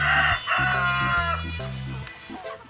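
Healthy farm chickens cluck and a rooster crows nearby, the calls repeating in a steady rhythm of short bursts with no talking.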